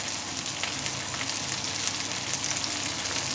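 Lamb chops with garlic cloves frying in a hot pan, a steady, dense sizzle with light crackling that runs on without pause.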